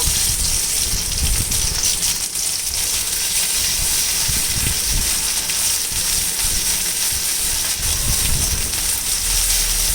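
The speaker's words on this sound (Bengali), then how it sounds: "রসুনটা একটু ভালো করে ভেজে নিতে হবে" Garlic paste sizzling hard in a hot pan while cooking a shutki dried-fish dish, a loud steady frying hiss with faint stirring knocks underneath, no voices.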